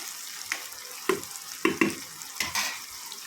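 Onions with salt frying in a pan, stirred with a spatula: a soft background sizzle broken by about five distinct scraping, clattering stir strokes, close by and with no talking.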